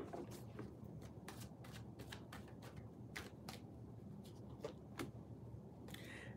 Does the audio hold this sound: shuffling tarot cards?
yes